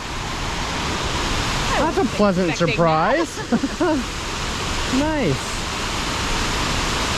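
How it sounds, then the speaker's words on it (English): Rushing waterfall water roars as a steady, broad wash throughout a hike near Washougal, with people talking briefly over it. "We hear all the water."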